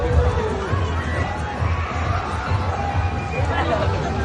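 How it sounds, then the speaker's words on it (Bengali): Dense crowd chatter fills a busy Dhaka trade fair, a steady, loud babble of many overlapping voices near and far with no single speaker standing out. "হাজার হাজার মানুষের ভিড়।"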